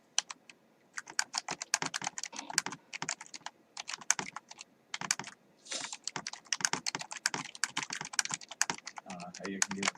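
Rapid typing on a computer keyboard, dense bursts of close, crisp key clicks with short pauses, continuing steadily for the whole stretch with a brief voice near the end.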